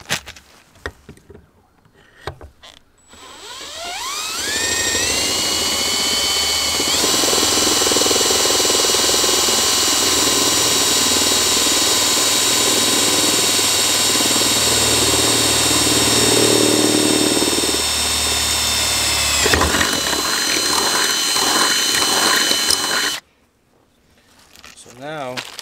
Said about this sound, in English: we're gonna just use a 5/16 bit, drill two holes